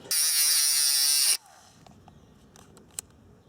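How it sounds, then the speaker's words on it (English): A Dremel rotary tool cutting a long steel bolt during an electric winch install: a loud, high buzzing whine up close for just over a second, then it cuts out, leaving faint handling clicks. "I'm going to have to cut this using a Dremel"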